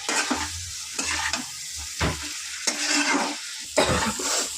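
Taro and potato sautéing in a pan while a utensil stirs them, with bursts of sizzling and repeated scraping strokes in an uneven rhythm, close and fairly loud, no voices.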